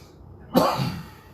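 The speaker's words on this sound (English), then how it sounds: "Excuse my coughing" A single sharp cough close to the microphone after a moment of near silence.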